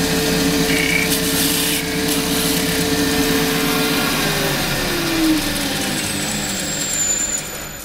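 A wood lathe turns a slender spillikin stick while a gouge cuts along it, a continuous close rubbing, scraping drone with the motor's steady hum underneath, no talking.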